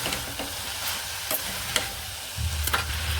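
A spatula stirring a spiced vegetable dish made with Kashmiri red chilli and homemade garam masala in a pan, with scraping strokes over a soft sizzle that grows louder near the end.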